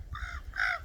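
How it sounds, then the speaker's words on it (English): Ravens at a bird bath on East Peak, Mt. Tamalpais, California, give two hoarse croaking caws in quick succession, close and clear over a faint low background rumble. "I'm up here at East Peak watching the ravens"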